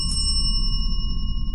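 An old bell on a dusty hotel reception counter gives one bright, ringing ding that hangs on and slowly fades, close and loud over low room rumble.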